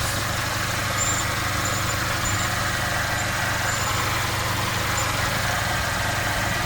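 A Mercedes-Benz CLA250 engine idles after a transmission fluid change, a steady, even low rumble with a faint hiss on top, loud and close and unbroken throughout.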